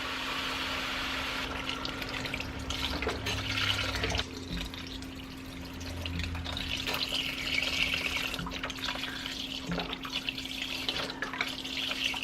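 Chicken stock pours from a carton into a pot of chicken soup with rotisserie chicken drippings, a steady close liquid splashing that runs for several seconds under a constant low hum.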